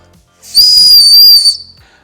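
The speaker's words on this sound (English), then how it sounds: "This whistle's actually pretty loud." A loud, shrill whistle built into a Bibury axe and hammer multi tool sounds one steady, sustained blast of about a second, close and alone, with a brief hiss as it starts and stops.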